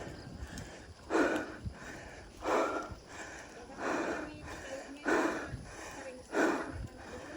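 Heavy, rhythmic panting from a cyclist catching breath after an uphill morning ride, close to the microphone, with about six loud breathy gasps at roughly one-second intervals over a noisy outdoor background.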